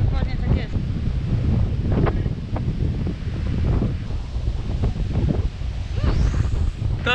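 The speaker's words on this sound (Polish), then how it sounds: "To nic, że wieje wiatr w oczy." Strong wind on the Polish Baltic coast buffets the microphone in a constant roaring rush, with gusty swells and low rumbling throughout.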